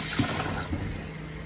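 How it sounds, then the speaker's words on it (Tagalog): Water pours into a cooking pot while making biko, Filipino sticky rice cake, a close, loud gushing splash that settles into a softer steady trickle, with no talk. "Lagyan ko lang po ng tubig,"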